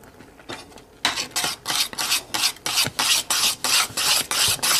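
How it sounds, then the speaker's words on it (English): A knife chops figs finely on a board in rapid, evenly spaced strokes, each a crisp rasping cut, close and loud after a brief quiet start, with no talking. "2 figs, chop this finely."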